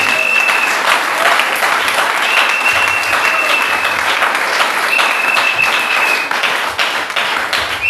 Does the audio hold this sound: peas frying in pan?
no